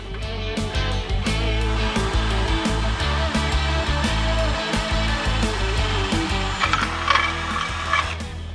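A manual hand drill bores a hole for a KOJU car trunk rack base on a table edge, a steady close whirring grind that holds for the whole span with a few small ticks.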